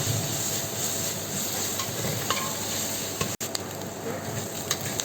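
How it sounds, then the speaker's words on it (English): Ginger and garlic sautéing in a pan while a spoon stirs, giving a steady broadband sizzle with occasional scraping clicks, close and continuous, with a brief clatter partway through. "You just need them to saute, so adding ginger garlic now"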